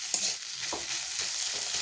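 Potatoes being stirred and fried in a pan over high heat, with a steady close sizzle and a few soft scraping strokes of the spoon repeating through it.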